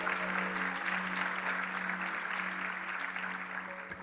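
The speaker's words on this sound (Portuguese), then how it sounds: "Pode dar uma salva de palmas para Deus" A congregation at an evening church faith service applauds steadily, a sustained wash of clapping heard at moderate distance with a faint tone humming beneath it.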